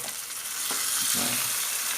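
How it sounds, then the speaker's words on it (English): Constant sizzling of beef (buffalo meat) frying in a hot pan, Kerala-style fry, with a brief scrape of stirring partway through. "Actually we can fry it longer so this way also is good, right?"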